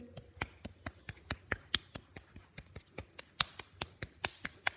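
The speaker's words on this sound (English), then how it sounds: "take the piece of clay and knock that piece of clay into" A lump of modelling clay is knocked by hand into a circular shape, giving a steady run of about twenty sharp, dull taps at an even, quick rhythm, close and moderately loud with no talking.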